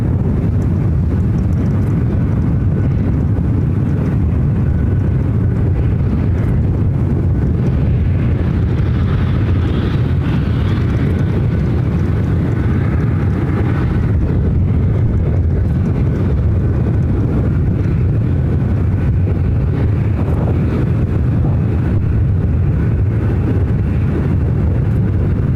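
A UPS heavy cargo jet departs Ontario airport in California, its engines a steady, powerful low roar with wind buffeting, droning on without pause.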